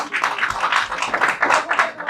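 Audience applause at a ceremony for a real estate advisor training course: dense, steady clapping from many hands fills the whole stretch, fairly close and lively, with a few voices mixed in.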